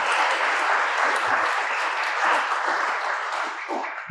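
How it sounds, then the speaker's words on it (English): Sustained audience applause fills a hall at a Section 203 language access and voting event, dense and even throughout before tapering slightly at the end. "We'll give one more round of applause for Secretary Becerra."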